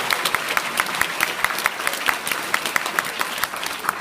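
Audience clapping steadily after a lecture at a volunteering association event, a dense even patter of many hands sustained throughout, fairly close and loud.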